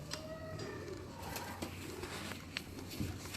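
Domestic pigeons of a Royal Teddy breed coo softly at a rooftop loft, low murmuring calls over a steady background hum with a few sharper bird sounds.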